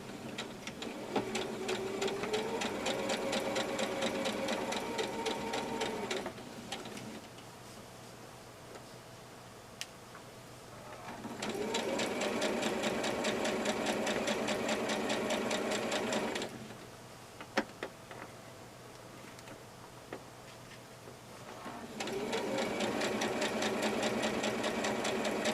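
A sewing machine stitches a pocket onto a garment in three steady, buzzing bursts, each a few seconds long with short pauses between, close and even with no talking.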